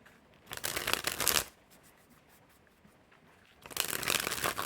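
Bob Ross playing cards are riffle-shuffled twice, two crisp fluttering bursts of about a second each separated by a quiet pause, close and fairly soft.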